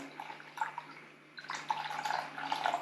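Water carrying live larvae for fish food is poured into a container, a soft trickle and splash that stops briefly and then resumes more fully, close and fairly quiet.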